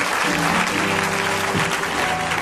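Many people in a church congregation clap together during a sermon, a loud continuous roar of applause with a held voice or instrument note humming faintly beneath it.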